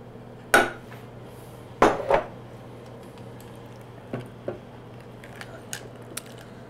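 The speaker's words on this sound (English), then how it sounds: "Now while the sugar's softening up, we can take the butter and put it in the saucepan." Butter set into a saucepan while sugar softens, heard as two sharp metallic clatters and scrapes of a utensil against the pan, followed by lighter scattered clicks.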